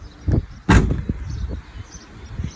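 A car door on a third-generation Eclipse, with its hinge bolts removed, drops loose with a heavy close thud, followed by a few smaller knocks and clunks of metal settling.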